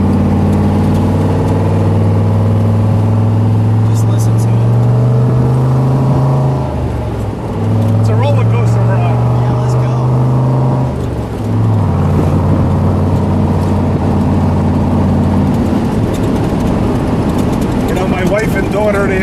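Engine of a 1967 Chevrolet Corvette convertible with a 427 V8 and four-speed during a ride, a loud, steady low rumble that rises and dips with gear changes, heard close throughout with wind noise.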